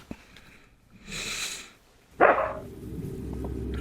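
A dog gives a loud, close bark or snort-like burst after a softer hissing sound, with faint background noise continuing afterward.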